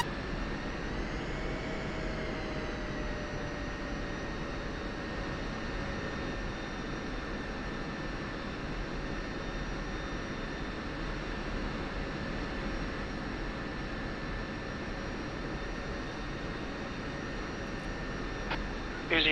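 Steady whining jet engine drone of a military aircraft taxiing across runway 27 in the DCS flight simulator, a constant close hum with a faint rising tone early on and no other events.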